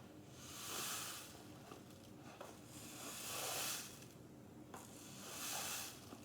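A soft, hissing trickle of quinoa grains cascading through a homemade rainstick, rising and fading in three slow waves with brief clicks between them.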